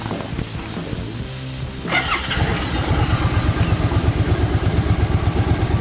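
A warm, fuel-injected motorcycle engine cranks and catches at about two seconds, then settles into a steady, rapid idle thump close by.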